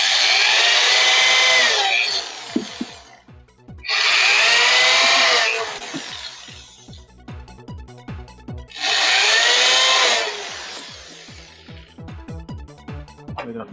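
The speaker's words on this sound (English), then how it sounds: "this impact driver at some point because I'm putting so much force on it" A cordless impact driver driving screws, three long loud bursts of whirring and hammering, each several seconds long, with quieter clicks and handling noise between them.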